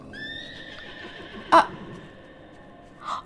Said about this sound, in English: that's the horses running away from me